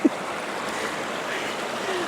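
Waterfall and stream water pouring and splashing outdoors, a steady broadband rush at fairly close range that holds constant throughout, with no voices.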